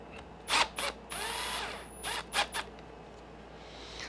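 Screws are driven into the plastic center brace of an ARRMA Kraton V3 RC car, heard as several short, close, quiet electric-driver whirs and ratcheting bursts with small gaps between them.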